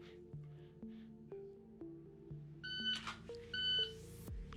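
Electronic shot timer beeps during a dry fire pistol drill, short tonal beeps heard a few times, quiet and close, along with faint clicks and a higher-pitched electronic tone toward the end.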